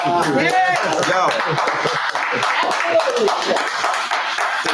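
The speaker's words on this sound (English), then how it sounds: "Give me a clap" Scattered audience clapping at a live tech meetup in Atlanta, a flurry of sharp uneven claps from several people, with talking and whooping voices mixed over it.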